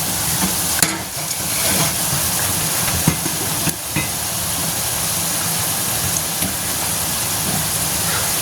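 Mushrooms fry in oil in a pan for gongura pickle, a loud, steady sizzle and hiss with occasional scraping clinks from stirring.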